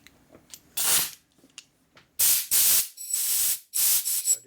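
Compressed air blasts through a rubber-tipped nozzle during repair of a 1988 Harley-Davidson FXR, in several loud, close hissing bursts of roughly half a second to a second each, separated by short pauses and faint handling noises.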